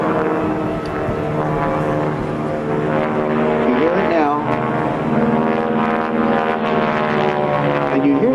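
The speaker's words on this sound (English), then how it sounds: "that's actually created by the propeller itself, and specifically by the propeller tips" A propeller plane with a big 1,340 cubic inch engine at a 2004 Rhode Island Air National Guard airshow gives a loud, sustained buzzing drone, the rasp of supersonic prop tips riding over the engine's rumble, with talking alongside.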